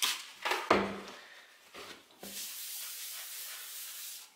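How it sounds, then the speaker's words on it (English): Degreaser cleaner sprayed onto metal: several short bursts of spray hiss with brief gaps, followed by a longer steady hissing spray that continues to the end. "So what I'm using here is a degreaser. It's a cleaner and degreaser. So to spray it down"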